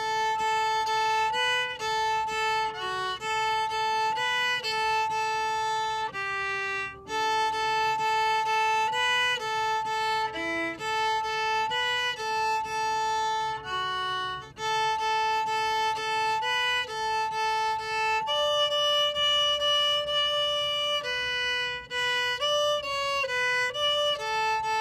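Solo violin plays a tune from Mary Poppins, a steady stream of bowed notes with some longer strokes, close and clear throughout with no talking.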